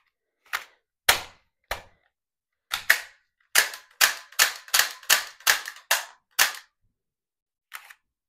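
Sharp snapping shots from Gold Eagle Deadpool toy dual pistols, about a dozen close, loud cracks, first scattered, then in a quick run of nearly even bursts, with a last shot after a pause.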